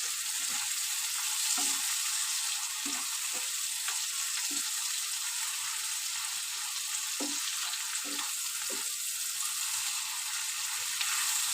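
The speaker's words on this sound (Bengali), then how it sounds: "আমি এটাকে ভালো করে ভেজে নেব," Fish oil fries in a pan for a Bengali recipe, giving a steady, even sizzle throughout. Faint soft clicks and stirring taps are scattered through it, and no one talks.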